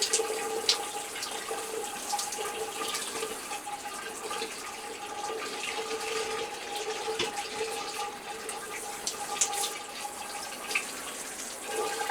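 Warm water runs steadily in a shower while calcium deposits are cleaned off the glass, a continuous hissing splash at moderate level with no talking, lasting about twelve seconds.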